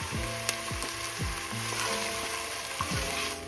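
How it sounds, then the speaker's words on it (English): Pre-cut onions hit hot frying oil for a vegan tomato pasta sauce and sizzle with a loud, continuous crackling hiss, with occasional low clunks of the pan or utensil underneath. "So I have my pre-cut onions here. Put them in there now."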